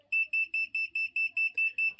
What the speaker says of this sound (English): the laser will beep to tell you it's not happy, that it's not level